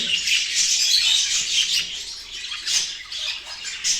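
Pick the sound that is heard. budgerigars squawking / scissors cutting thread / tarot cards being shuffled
budgerigars squawking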